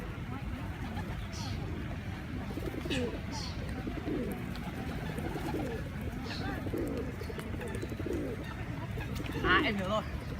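A flock of pigeons coos all around, soft repeated throaty calls overlapping continuously under steady outdoor background noise, with occasional voices nearby.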